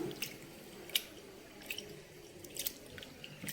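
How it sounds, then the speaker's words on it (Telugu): Two cups of flattened rice (poha) being rinsed in a bowl of water, with soft, quiet squishes and drips and a few sharper splashes scattered through an otherwise calm background. "ఇవి 2 సార్లు చక్కగా నీళ్లు పోసుకొని శుభ్రంగా కడిగేసుకుందాం."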